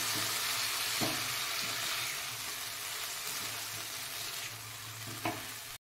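Boiled broccoli stir-fried with spices over low to medium flame, giving a dense, continuous sizzle with a few stirring knocks, close up and without speech.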